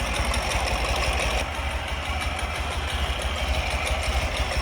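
A 2004 Ural Tourist motorcycle idles steadily nearby, a continuous, even engine rumble with a faint rhythmic throb and no other sounds.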